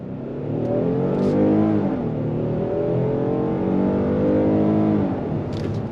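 A 2025 Kia Telluride SX Prestige SUV accelerates on throttle after a U-turn, its engine note rising in a smooth, steady climb from inside the cabin for several seconds, with no talk over it.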